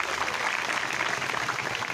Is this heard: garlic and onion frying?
no